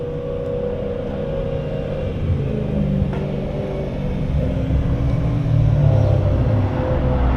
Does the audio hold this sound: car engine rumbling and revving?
yes